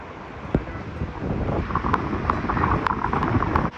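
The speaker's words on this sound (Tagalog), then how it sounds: "Lakas ang hangin" Typhoon winds roar and buffet the microphone continuously, with occasional sharp knocks and rattles of corrugated metal roofing close by.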